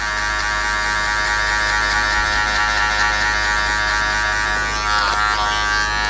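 Electric hair clippers fitted with a number 1 guard, buzzing with a loud, steady motor hum throughout, with a slight shift in tone near the end as the blade lever moves.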